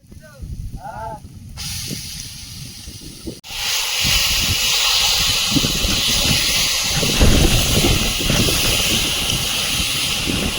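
Marinated chicken dropped into a hot pan of fried spice paste, with a sudden loud hiss that settles into a steady strong sizzle after someone talks over quieter cooking noise.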